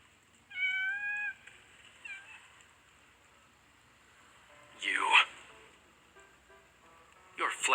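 In the video game Love and Deepspace, a cat gives a short, clear meow with a fainter follow-up. Two loud, sharp bursts of other sound come later over a quiet background.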